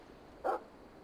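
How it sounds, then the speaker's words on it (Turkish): A dog in The Final Station video game gives a single short bark, sharp and fairly close, set against a faint steady background hum. "Köpek."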